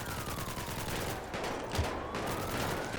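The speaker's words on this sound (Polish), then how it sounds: "strzelają we mnie" Rapid gunfire in GTA 5, dense crackling bursts of shots that run fairly evenly across the short stretch, moderately loud, with no talk over it.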